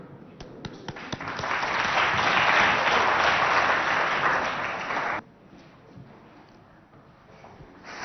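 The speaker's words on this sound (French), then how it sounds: "Sous vos acclamations." Studio audience at a televised school arm-wrestling contest in Abéché applauds loudly and steadily for about five seconds, then stops abruptly, leaving quiet room noise.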